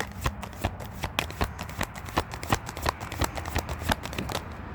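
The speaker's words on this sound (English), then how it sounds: "I know I'm not shuffling it very well" Tarot cards are shuffled by hand in a quick series of crisp riffling flicks, close and fairly quiet, with uneven rhythm.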